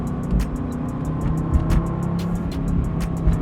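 A Mercedes-AMG GT C engine drones with a deep, steady rumble, strong and close with slight surges in pitch and a repeating ticking pulse over the low growl.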